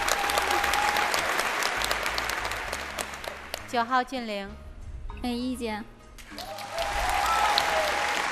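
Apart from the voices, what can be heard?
audience applause on a dating show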